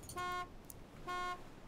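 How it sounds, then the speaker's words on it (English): A vehicle horn in the military video game Arma beeps twice, evenly spaced, each short tonal honk fairly loud over quiet game background. "just still beeping the horn."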